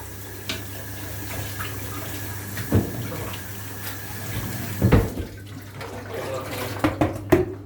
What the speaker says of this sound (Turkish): Şimdi bunun içine su koyalım.